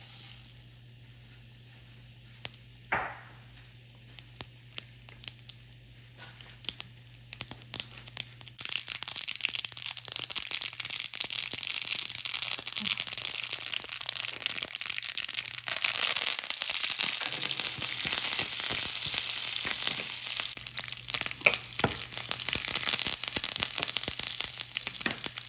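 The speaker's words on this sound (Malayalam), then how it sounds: "കടുക് താളിക്കാൻ പാൻ ചൂടായിട്ടുണ്ട്. അതിലേക്ക് വെളിച്ചെണ്ണ," Mustard seeds spluttering in hot coconut oil in a pan, a few faint crackles and clicks at first, then a sustained loud sizzle with dense popping and spitting for the rest of the tempering.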